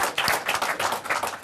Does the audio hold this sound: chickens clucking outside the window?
no